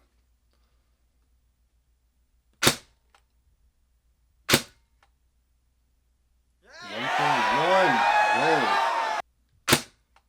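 A CYMA MP5 airsoft gun fires 0.25 BBs through a chronograph: three sharp, separate shots spaced a few seconds apart, with a stretch of speech between the second and third.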